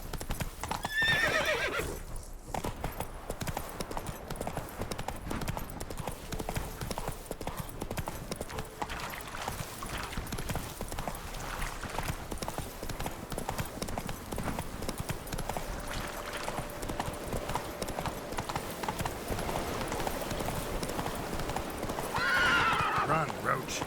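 Geralt's horse Roach in The Witcher 3: Hearts of Stone clip-clops steadily at a brisk pace and lets out a loud whinny near the start and again near the end, under a continuous rushing ambience.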